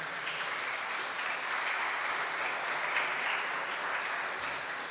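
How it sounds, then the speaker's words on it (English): An audience at the Ride for Raja fundraiser for Peel Children's Aid gives the organizers a round of applause, an even, sustained patter of many hands clapping that sounds somewhat distant and soft. "So please give a round of applause for organizers."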